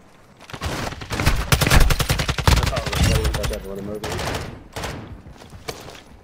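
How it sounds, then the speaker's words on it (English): Rapid automatic gunfire from a Call of Duty DMZ match, loud close bursts of fast repeated shots that swell and then thin into scattered distant fire. "You are taking effective fire"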